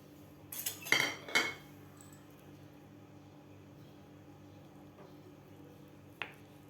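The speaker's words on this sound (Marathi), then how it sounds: "तर आता आपल्याला हे कट करून घ्यायचं आहे पनीर." A knife cuts through a block of paneer on a board, giving a couple of close, crisp chopping knocks in quick succession, then near silence with a faint tap or two later.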